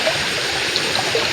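A village creek flows steadily, a dense, close rushing and trickling of water with no pauses and no voices.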